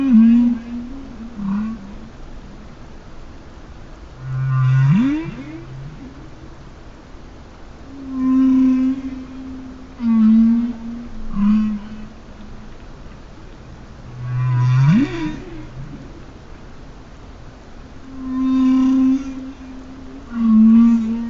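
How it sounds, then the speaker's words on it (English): Underwater whale song in the open ocean: a repeating sequence of low moans, rising upsweeps and higher harmonic calls, spaced phrases recurring about every ten seconds, fairly clear with faint background hiss. "Under the right conditions, whale song can move across vast stretches of ocean, far beyond the range of vision."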